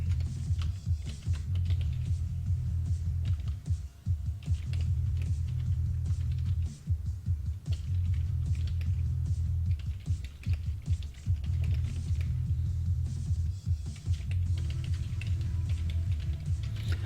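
Steady, continuous typing on a computer keyboard, close and clear, with rapid irregular key clicks over a low hum and no voices.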